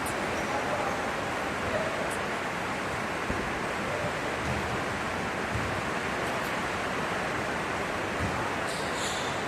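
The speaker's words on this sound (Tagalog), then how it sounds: "maririnig mo yung patak ng ulan dito sa bubong ng covered court" Steady, dense roar of heavy rain drumming on the roof of a covered basketball court, constant and loud throughout with no pauses.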